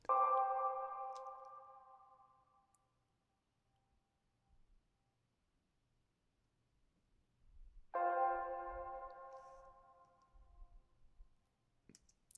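Two isolated piano notes ring out through a very large, 100% wet six-second reverb, each fading slowly into a long, washy tail that lingers for several seconds.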